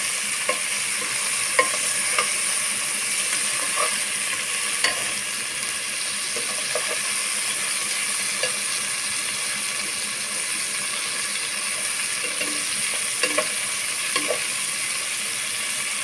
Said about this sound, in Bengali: এটা আমি ছয় সাত মিনিট সময় নিয়ে লাল লাল করে ভেজে নিলাম